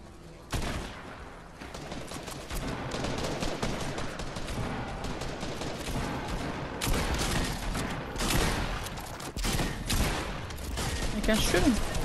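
Rapid bursts of gunfire crackle almost continuously in a Fortnite match, dense volleys rattling loud and close with brief gaps between flurries, and voices occasionally audible beneath the shooting.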